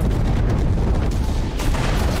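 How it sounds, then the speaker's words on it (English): A thrown explosive going off against an IS-2 tank in the video game Enlisted, a dense continuous rumble of battle noise and booms filling the whole stretch, loud and close with no talk. "I threw the explosion at IS-2."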